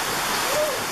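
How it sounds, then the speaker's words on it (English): Heavy rain pours down outdoors near a lake in a dense, loud, continuous rush of water. "That's a lot of rain."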